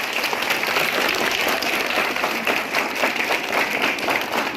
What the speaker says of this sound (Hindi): इसलिए उसके लिए एक बार जोरदार तालियां